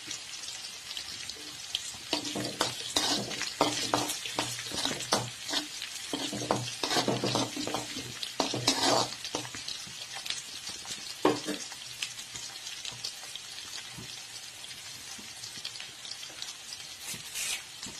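Dried red chilies crackle and sizzle in hot oil while being stirred for broken wheat upma, with steady frying hiss and irregular clinks and scrapes of a spoon against the pan, close and continuous, no talking.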